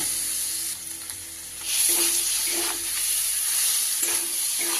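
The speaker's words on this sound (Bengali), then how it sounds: "দু থেকে তিন মিনিট এইভাবে নাড়াচাড়া করে নিলেই তৈরি হয়ে গেল" Paneer samosa filling sizzles and hisses in a hot pan as it is stirred, with a steady bright frying wash and soft scraping strokes recurring at intervals.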